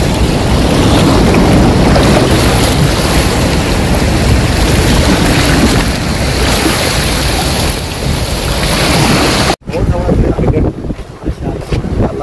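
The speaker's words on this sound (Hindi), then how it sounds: "सिंगूर डैम का पानी चल रहा है" A loud, continuous roar of water rushes through the open gates of Singoor Dam, heavy and steady like wind and surf, buffeting the microphone, before cutting to a quieter stretch with a voice over distant flow.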